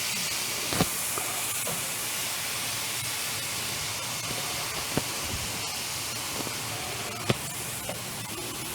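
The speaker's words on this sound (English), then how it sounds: "these jokers that aren't covered in the bacon, we're just gonna go ahead and grill these off real quick" Pork chops sear over charcoal with a loud, continuous sizzling hiss, broken by a few sharp pops and crackles from the grill.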